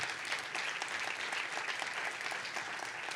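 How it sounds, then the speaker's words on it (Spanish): Dense, steady applause fills a church youth gathering, a continuous bright wash of many hands clapping at even loudness with no voices on top. "¿Quiere dar un aplauso a él?"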